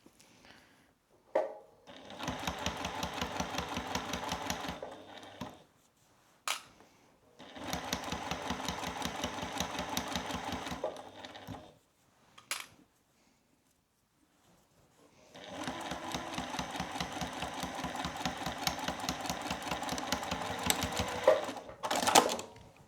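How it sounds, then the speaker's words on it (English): Sewing machine stitching the seam of a boxy zippered makeup bag, running in three long steady bursts of rapid rhythmic needle clatter with short pauses between, close and clear with no talk. "and then you can continue sewing."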